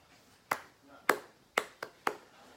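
Five sharp hand claps spaced unevenly in a quiet room, close and fairly soft, with no other sound between them.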